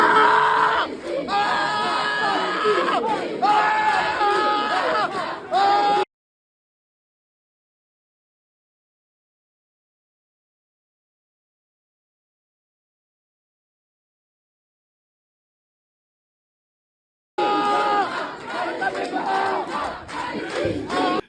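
Crowd chanting and shouting at a pro-Palestine protest, dense and loud, fills about six seconds, then breaks off into total silence before the crowd noise resumes near the end.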